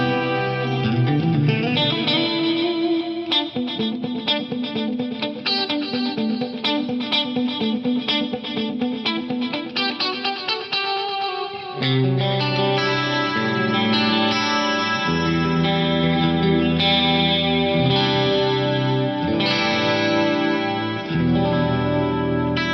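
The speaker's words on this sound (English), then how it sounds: "There's a lot of delay going on with this and some chorus, and this just sounds amazing." A Lexicon PCM81 effects unit running its chorus and reverb algorithm with dual delays, processing sustained tonal chords into a lush, shimmering wash with echoing repeats, steady and loud throughout.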